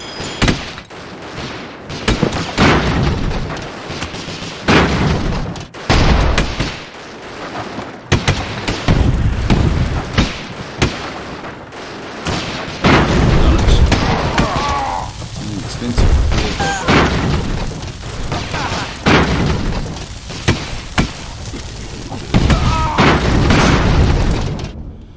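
Rifle volleys and heavy explosions from the airship battle game Airships: Conquer the Skies, a dense run of loud booms and crashing bursts that keeps going almost without a break, with brief quieter gaps and a voice faintly in the mix.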